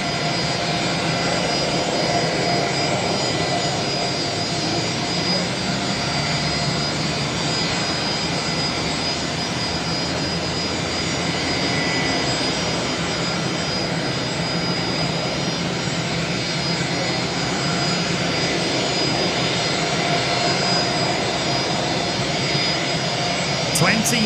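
Jet airliner taxiing at Brisbane Airport, a steady whining, rumbling jet engine roar that holds constant throughout, heard from a distance with faint background voices.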